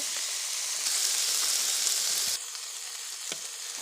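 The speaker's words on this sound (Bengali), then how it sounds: "এই মশলাগুলোকে আমি একটু কষিয়ে নেব" Spices sizzling in hot oil in a pan while cooking a rohu fish curry with onion stalks, a steady, close, bright hiss that carries on throughout and drops slightly in level partway through, with no talk.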